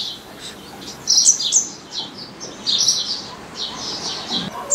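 A sunbird carrying cotton to its nest in a neem tree gives a series of high, thin chirps in short bursts over quiet background.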